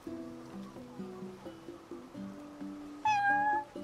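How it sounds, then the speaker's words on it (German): A cat in Final Fantasy XV meows once, a clear close cry rising over soft in-game background music with steady plucked tones. "Eine Katze."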